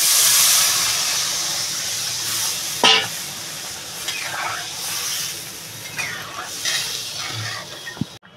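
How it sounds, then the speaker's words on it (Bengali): Water is poured into elephant foot yam frying with turmeric in a pan for a katla fish curry, giving a loud hissing sizzle that slowly settles, with a few stirring scrapes near the end. "আমার ওলটা না কষানো হয়ে গেছে, আমি এবার জল ঢেলে দেবো।"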